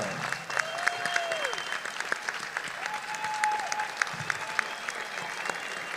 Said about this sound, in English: They appreciate your applause